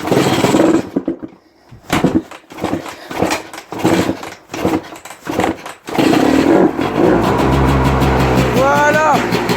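A motorcycle sputters and catches in uneven bursts, then settles into a continuous running engine with a low, steady rumble. People talk over it.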